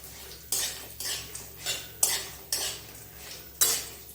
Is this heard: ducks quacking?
no